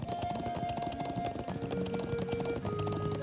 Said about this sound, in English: And hop off the horse.